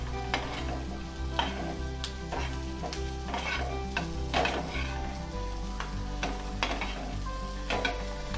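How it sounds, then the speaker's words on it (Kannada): Pieces of vana fish fry lightly in a pan with onion, a steady close sizzle broken by intermittent stirring clicks and scrapes, with no voices. "ಸ್ವಲ್ಪ ಲೈಟಾಗಿ ಫ್ರೈ ಮಾಡುವ, ಜಾಸ್ತಿ ಬೇಡ"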